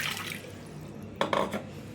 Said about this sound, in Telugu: అన్నింటికి కడిగేసి వాటర్ పోసేసుకుందాం